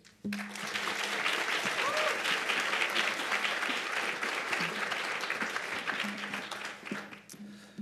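An audience breaks into steady, sustained applause welcoming an Army captain to the podium, a full clapping crowd that swells and then tapers off near the end.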